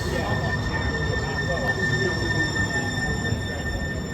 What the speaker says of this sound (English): we had to get off the train for a second